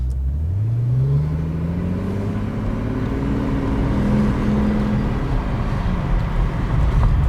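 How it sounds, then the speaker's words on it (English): A 2008 Mercedes-Benz S65 AMG V12 pulls steadily while driving, its smooth, dense engine drone rising in pitch over the first seconds, then holding a continuous, fairly loud hum under road noise. "So with a 12-cylinder engine, you're really getting a lot of firing pulses."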